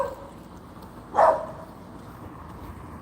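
A single dog bark, short and fairly loud, rising once out of a quiet room background before fading back to low hum.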